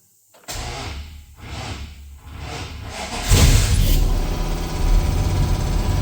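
A 2nd Gen Dodge Ram truck engine with a slow starter cranks through several labored, pulsing turns, then catches and settles into a loud, close idle.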